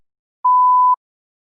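A single clean electronic beep marks the start of preparation time in a TOEFL speaking test, a steady mid-pitched tone lasting about half a second alone against silence.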